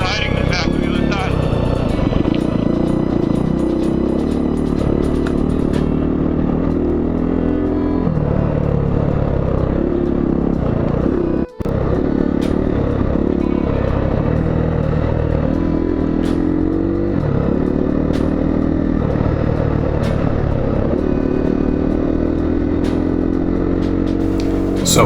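A motorcycle rides a trail in the Mojave Desert with a loud, steady engine drone and clattering rumble that shifts as it works over the ground, and a voice talks over it throughout.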